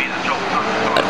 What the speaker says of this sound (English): the A40 battling out with the BMW 1800 Colin Kingsnorth